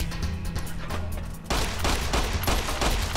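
Rapid 9mm gunfire comes from Fallout: New Vegas, in the Dead Money add-on. After a quieter opening, a loud, dense burst of repeated shots suddenly starts and keeps cracking in quick succession until the end.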